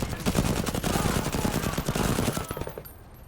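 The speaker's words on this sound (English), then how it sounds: "Machine gun turrets" Machine gun turrets firing in a video game, a dense rapid burst of close gunfire that runs continuously, then cuts off near the end.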